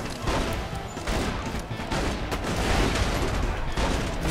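Chaotic game combat in Borderlands 2 during Mr. Torgue's Campaign of Carnage, with a steady barrage of pistol shots and impacts layered into a loud, continuous wash of battle noise.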